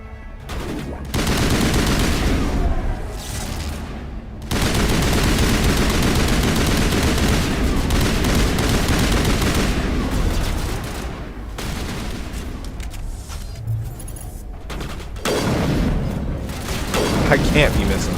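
Sustained bursts of automatic gunfire fill a 2007 space RPG video game battle, loud and dense with brief gaps between volleys, with a voice speaking over parts of the shooting.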